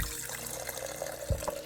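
Water running quietly from a kitchen tap into a sink, a soft continuous trickle with a couple of small splashes near the end.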